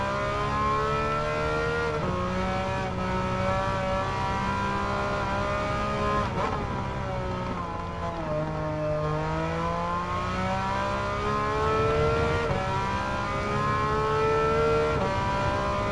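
Porsche 911 racing car on soft tires in Gran Turismo 7 with traction control off, a loud, continuous engine note that climbs repeatedly through upshifts and dips briefly under braking.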